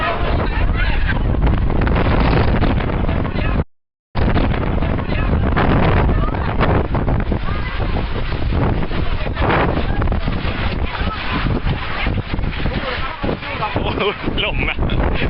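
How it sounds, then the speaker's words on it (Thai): Strong wind from a summer storm roars continuously into the microphone, loud and buffeting, with a brief cut partway through and people talking over it. "ลมอ่ะ"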